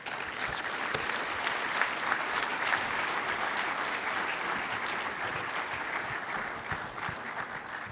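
An audience at the UN Global Supply Chain Forum gives sustained applause after a speech, a dense, even wash of clapping that stays steady throughout, somewhat distant in a large hall.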